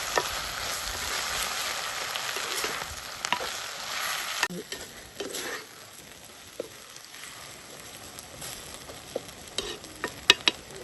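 Salt water is poured into a pan of frying onions on a stove, raising a loud hissing burst that settles after a few seconds into a quieter sizzle with scattered pops and taps.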